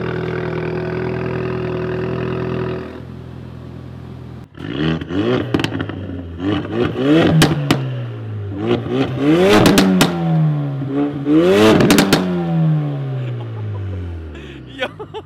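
A Ford Focus RS built to about 400 hp revs hard after a cold start, with several loud, close throttle blips rising and falling in quick succession after a low steady hum.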